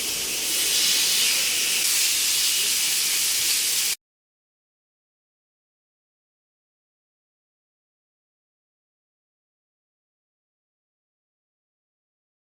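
Lamb burgers sizzle on a hot, smoking grill, a loud steady hiss lasting about four seconds before cutting off abruptly into silence.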